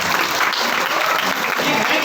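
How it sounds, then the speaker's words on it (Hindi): An audience at a business leadership gathering in Robertsganj breaks into loud, sustained applause, dense clapping filling the whole moment without a break. "एक बार जोरदार तालियां बजाएं"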